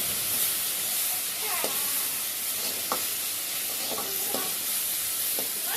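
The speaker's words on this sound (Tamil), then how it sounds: "தக்காளி கொஞ்சம் போட்டு கிண்டி விடணும்." Tomatoes frying in a pan for idli masala, with a constant sizzle and hiss as a spoon stirs them, giving a few soft scraping clinks against the pan.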